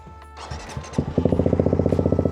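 A motorcycle engine cranks with a few uneven turns, then catches and settles into a fast, regular idle of evenly spaced putters, close and fairly loud.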